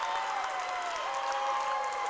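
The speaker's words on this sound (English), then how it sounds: "Gator fans applaud that one" A crowd applauds in a gym at a Minnesota high school girls basketball game, steady clapping mixed with a bright squeak and general murmur.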